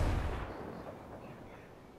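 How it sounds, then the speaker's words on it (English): A single distant gunshot or heavy shot booms in the game Ghost Recon Breakpoint, a deep, muffled blast followed by a long, fading rolling echo, with no voices. "I hear gunfire."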